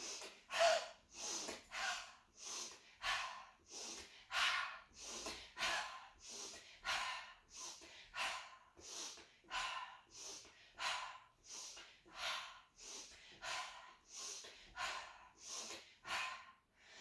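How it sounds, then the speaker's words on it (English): Rhythmic sharp breaths, in and out, repeated about twenty times at a fast steady pace during pelvic floor squats and hip thrusts, close and fairly loud with no talking. "I'm going to breathe in now"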